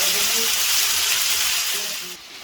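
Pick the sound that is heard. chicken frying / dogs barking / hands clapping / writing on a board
chicken frying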